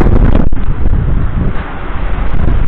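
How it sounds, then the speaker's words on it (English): Strong wind after a storm roars steadily across the microphone outdoors in front of a house, a loud continuous rushing with gusty swells and no voices. "You can see it's still windy out here."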